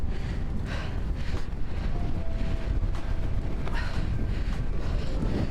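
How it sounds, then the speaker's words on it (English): Strong wind blows across an open field during an early-morning road bike ride, a loud, steady roar buffeting the microphone throughout, with no speech. "That wind's blowing across that field there."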